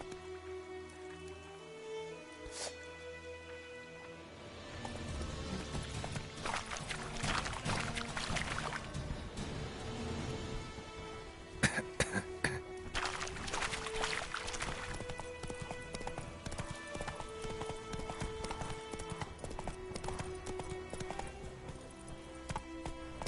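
Geralt's horse Roach trots steadily in The Witcher 3, hooves clip-clopping in a continuous rhythm at moderate volume over faint ambient sound and music-like tones.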